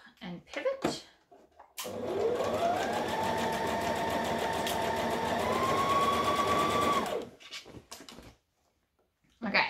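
A sewing machine stitches steadily through thick fabric layered with interfacing and pins, a continuous close whirring run of about five seconds with a rising motor tone. Brief handling noises come before and after it.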